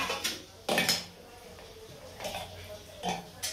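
A steel plate picked up and set down in a home kitchen, a few short clattering knocks spaced apart with quiet pauses between them.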